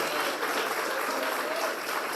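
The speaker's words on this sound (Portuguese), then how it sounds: "Só se for para Jesus essas palmas." A church congregation claps together during a Sunday service, a dense, steady wash of applause from many hands that holds loud and even throughout.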